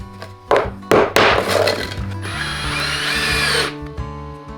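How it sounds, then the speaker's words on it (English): A power drill drives tiny screws into floorboards during a home renovation, with sharp tool knocks at the start followed by a steady whirring run of a few seconds that cuts off abruptly, close and loud with no talking. "we're screwing them in with these lovely little teeny tiny screws."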